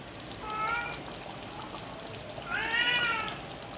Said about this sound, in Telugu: ఈ పిల్ల అయితే దొంగ పిల్లి, ఇంట్లోకి వేసి దూరిపోతుంది.